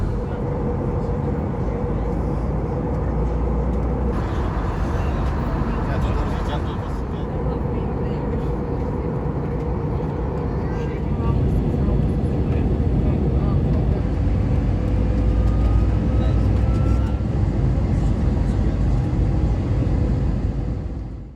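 Air Albania airliner cabin noise on approach to Istanbul, a loud steady low engine rumble and airflow roar throughout, with a person talking over it.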